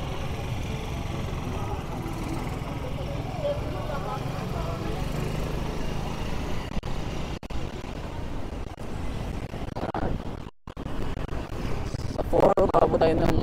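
MINAL MS601 full suspension electric mountain bike motor running at throttle level 4, a steady droning whir under continuous wind rush while riding outdoors, with a person talking over it.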